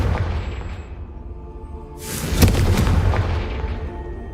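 Confringo fire spell exploding in Hogwarts Legacy, a loud booming blast with a broad rumbling roar that swells and then slowly fades over a few seconds.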